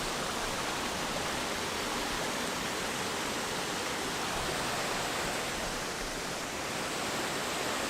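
A popular cliffside waterfall roars in a dense, continuous hiss of falling water, loud and steady throughout with no voices.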